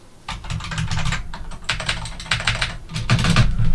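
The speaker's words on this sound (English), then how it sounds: "An IBM Model M. Model M keyboard." Typing on an IBM Model M keyboard, rapid loud clacking keystrokes in quick irregular bursts, close up and alone without speech.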